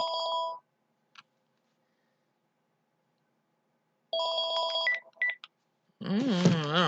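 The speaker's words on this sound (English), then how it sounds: "every time I start a video, the phone rings?" An electronic home telephone rings in two bursts separated by a long pause, close and fairly loud, and a voice starts speaking right after the second ring.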